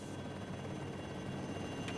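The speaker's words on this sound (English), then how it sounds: "pointed out the source of the fire to Ralph, wanting the helicopter to turn." A helicopter flies in the distance, giving a faint, steady low rotor drone that runs evenly throughout with a brief hiss near the end.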